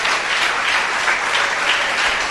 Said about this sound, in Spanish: Denle un aplauso a ese papá que sabe dar unos cantazos buenos.